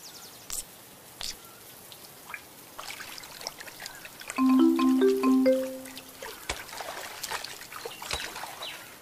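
Steady light rain patters with water trickling and dripping nearby, while a soft tonal melody rises briefly in the middle before fading back under the rain.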